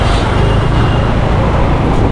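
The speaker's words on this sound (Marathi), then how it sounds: "लागली वाटतं रत्नागिरी गाडी बहुतेक" A bus rumbles in at the crowded Dapoli bus depot, a loud, dense, close roar of engine and road noise with busy depot clamour throughout.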